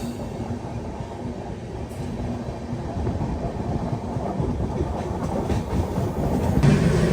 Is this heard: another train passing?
yes